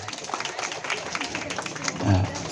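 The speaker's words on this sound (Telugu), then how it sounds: "చప్పట్లు కొడదాం ఒకసారి అందరూ కూడా" Applause from a gathered crowd at an engagement ceremony, a dense steady patter of clapping hands that swells near the end, with a voice speaking over it.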